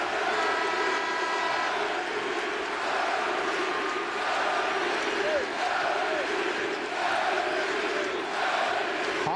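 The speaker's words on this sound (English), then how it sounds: "the chant of MVP goes on in the background for Kevin Garnett" Sellout basketball arena crowd at a 2008 Celtics vs Hawks playoff game, a steady loud roar with rhythmic chanting of MVP for Kevin Garnett running through the whole stretch.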